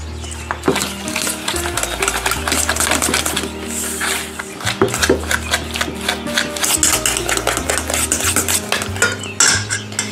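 A fork works tart dough of egg, salt and vanillin in a bowl, producing continuous quick scraping and clinking against the dish, close and busy, with music running underneath.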